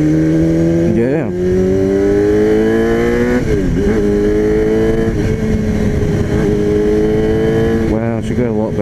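A Honda CBR 250 motorcycle engine revving after its carburettors were cleaned and balanced, with a loud steady high-pitched whine rising through several blips of the throttle and held near at length.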